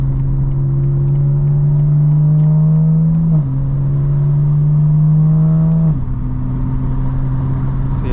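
A 900hp 2025 BMW M4 Competition xDrive drones loudly and steadily under acceleration from inside the car, its pitch dipping at two quick gear shifts before climbing again.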